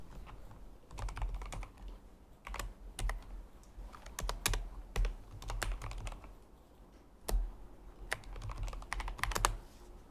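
Login details tapped out on a computer keyboard in bursts of quick, close keystrokes, with brief pauses between runs in an otherwise quiet room.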